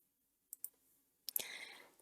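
Two quick, faint mouse clicks, followed a moment later by another click pair and a brief soft rustle, all quiet and close.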